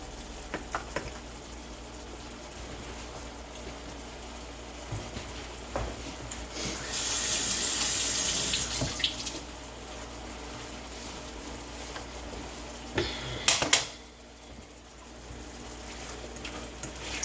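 Apple slices fry on a stovetop with a low steady sizzle, broken by occasional stirring clatters and a louder hissing surge midway, close and with no talking.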